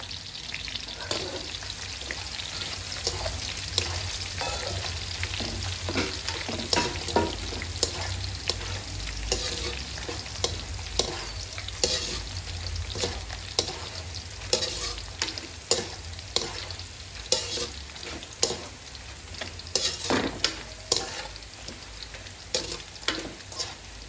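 Raw chopped onion pieces fry in a pan at home, with a steady sizzle and frequent scraping stirs from a spoon that go on without a break.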